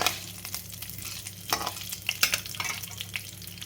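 A spoon stirs crushed chillies and cumin in a frying pan, sending out soft scrapes and clicks over a faint sizzle, up close and fairly quiet, with no talking.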